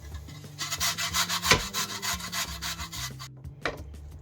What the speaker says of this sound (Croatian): Izrendat ćemo šargarepu.